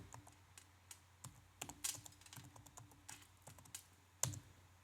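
Password keystrokes on a computer keyboard at a command-line prompt, irregular clicks in short bursts with brief pauses, one sharper final key strike near the end, close and fairly quiet.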